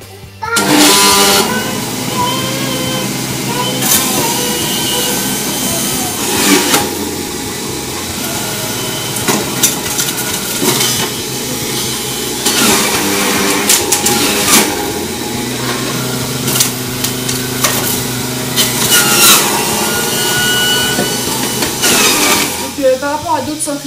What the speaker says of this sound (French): c'est une centrifugeuse Philips. C'est un modèle assez récent.